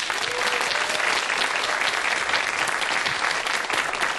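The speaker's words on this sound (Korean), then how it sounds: "여러분이 방금 박수를 치셨는데요." A lecture audience claps loudly and continuously for a physicist's talk on complex society, a thick, even wash of applause filling the room with no pauses.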